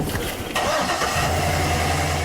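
A big truck engine cranks briefly and catches, settling into a loud, steady low rumbling idle close by.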